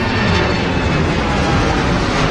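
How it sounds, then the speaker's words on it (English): A Royal Brunei Boeing 787 Dreamliner roars at Heathrow, a loud, steady broadband jet rush that holds constant and fills the whole short stretch. "There's Royal Brunei's Dreamliner."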